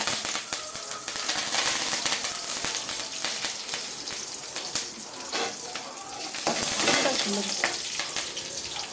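Onions sizzle loudly in hot oil for khichdi, with a continuous crackling fry and occasional clinks and scrapes of a stirring spoon against the pan.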